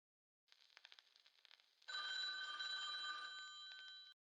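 A telephone rings in one long, steady electronic ring after a stretch of faint clicking and rustling, fairly quiet and alone.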